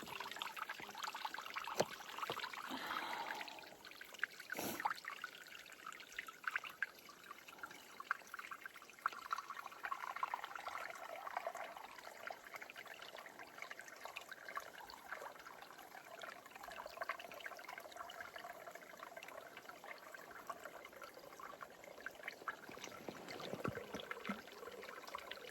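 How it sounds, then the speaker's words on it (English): Water trickles and pours as a bottle or container is filled from a mountain stream on a long-distance hike, a faint continuous gurgle with bursts of handling noise, no talk. "I'm gonna get some water."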